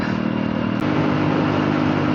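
A TVS Sport motorcycle running hard in fourth gear near 100, giving a loud, steady engine drone with a thick rushing wash of wind and road noise and no break in its pitch.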